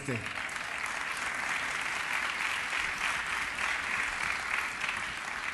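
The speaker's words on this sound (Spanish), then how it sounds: "El aplauso para John, pues, así" A tourism forum audience gives dense, sustained applause that fills the hall evenly for several seconds.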